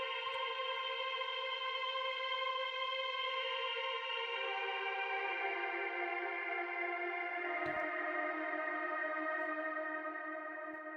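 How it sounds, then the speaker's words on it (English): A synth pad drenched in huge organ-like reverb holds a dense sustained chord that slowly shifts and washes on for several seconds, steady and unbroken. "A massive reverb, just keeps on going."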